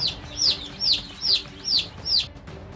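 Kadaknath chickens on a farm in Ruhipada village, Jhabua, clucking in five evenly spaced, close calls that rise and fall in a regular rhythm over quiet background.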